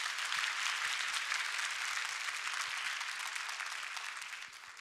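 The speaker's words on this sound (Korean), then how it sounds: "이 자리를 빌어서 큰 박수 한번 보내드리면 좋겠는데요" Audience applause at a live concert anniversary show, a dense, hissing sheet of many people clapping at a distance, steady and then tapering slightly toward the end.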